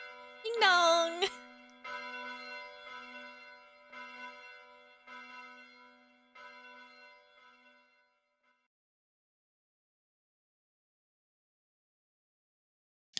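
Church bells in a visual novel game ring out loudly at first, then settle into a steady, fading series of tolls with a low hum, dying away into silence after about eight seconds.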